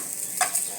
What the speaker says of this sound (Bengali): কাঁচামরিচ, তেল আর একটা ডিম দিয়ে অল্প একটু ভাত ছিল, তো সেটা আজকে একটু ফ্রাই করছি।